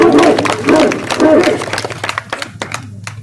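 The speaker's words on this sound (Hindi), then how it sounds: "बजाइए ताली।" An audience at a religious scripture recitation event bursts into applause, a dense wash of clapping that thins into scattered individual claps toward the end.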